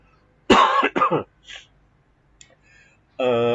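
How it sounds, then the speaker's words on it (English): Two sharp, close coughs in quick succession, followed by a small throat sound and a brief voiced noise at the end. "Excuse me, I'm going to cough again."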